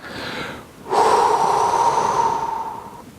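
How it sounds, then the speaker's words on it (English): A single long inhalation drawn in through the nose, close and clear, rising to a steady airy rush for about two seconds after a shorter soft breath at the start. "you breathe in through the nose and with your tummy"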